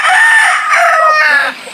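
A single loud rooster crow from champion backyard gamefowl rings out close by, one sustained cock-a-doodle-doo lasting about a second and a half, with no talking.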